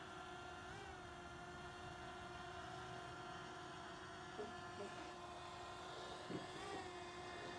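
A Fimi Mini 3 drone descends to land in grass, its steady, faint propeller whine droning throughout with slight pitch shifts as it comes down.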